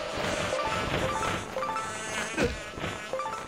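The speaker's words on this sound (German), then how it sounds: "Noch mehr Bienen!" Buzzing bees in the video game Zelda: Skyward Sword, a steady droning hum with short chiming tones and a brief crash partway through.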